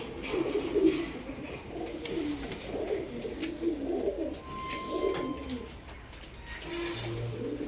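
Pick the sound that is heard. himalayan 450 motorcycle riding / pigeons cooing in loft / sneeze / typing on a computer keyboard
pigeons cooing in loft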